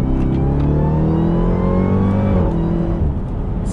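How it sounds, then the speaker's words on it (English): A 707-horsepower Jeep Trackhawk downshifts and revs hard, the engine note climbing loud and close, then dropping abruptly near the end, with no talk. "You get a downshift to boost, to kick them RPM high."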